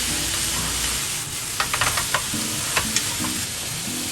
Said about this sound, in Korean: 고기가 어느 정도 익었으면 양배추, 감자, 당근을 넣고 볶아주세요.